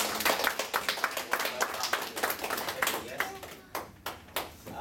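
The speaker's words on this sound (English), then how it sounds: "So everybody, please applaud." Audience at a Toastmasters club meeting applauding special guests, a run of scattered hand claps from a small group that thins out toward the end into a few separate claps, with some speech mixed in.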